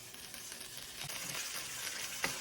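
A swordfish steak sizzles steadily in butter in a hot pan, a close, continuous frying hiss with a brief clink or scrape near the end and no talking.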